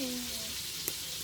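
Fish crisping in hot oil in a pan gives a brief, faint, steady hiss, with one small click near the end and no voices.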